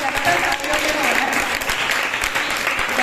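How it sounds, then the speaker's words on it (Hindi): Loud, continuous clapping from a gathered audience at a small community meeting, many hands beating at once, with a faint murmur of voices under it. "सभी ने बहुत अच्छा बोला, उसके लिए सबके लिए बहुत बहुत जोर से ताली बजाई जाए।"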